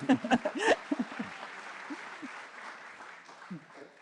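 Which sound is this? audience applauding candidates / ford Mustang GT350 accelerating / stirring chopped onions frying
audience applauding candidates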